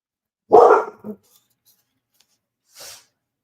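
A dog, indoors and barking at a movie playing, gives a single sharp bark, followed by a shorter yip and, after a pause, a faint breathy sound.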